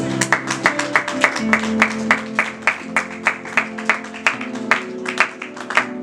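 A church congregation applauding at a Sunday service, with steady rhythmic clapping in unison, loud and close, alone with no speech.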